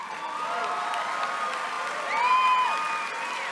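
Audience applause and cheering from a crowd following a power speech, a steady broadband wash of clapping with a few raised voices and whistle-like tones that swell briefly near the middle before settling.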